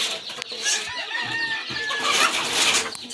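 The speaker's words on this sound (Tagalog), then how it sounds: "magbana ang manok" A chicken clucks and squawks up close in quick, repeated calls, loud and clear with little else around it.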